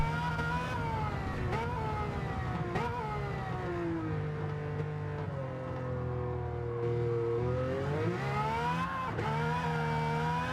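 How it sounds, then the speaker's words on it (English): A GTO race car engine revs and wavers continuously during a time trial, pitch climbing and dropping as the wheels spin for grip up a hill, loud and close throughout. "Hear all that wheel spin up the hill."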